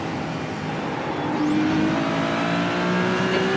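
Race car engine in the iRacing sim pulling steadily under rolling throttle, a continuous loud drone whose pitch climbs gradually from about halfway through, with tire and road noise underneath.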